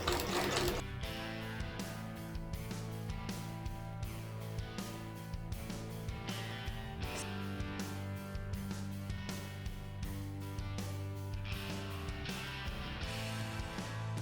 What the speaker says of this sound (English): we are just going to sew shut the joint there.